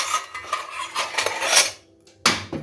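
Metal utensils clatter and rattle in bursts as they're rummaged through, a brief pause, then one more loud clank.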